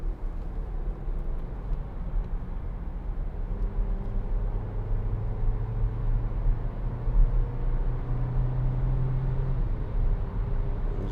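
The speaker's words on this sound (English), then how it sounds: "We'll just give it a bit of gas behind this Peugeot." A Skoda Octavia 1.4 TSI SE L DSG accelerates on a road behind another car, a steady in-cabin engine drone rising gradually in pitch over road rumble.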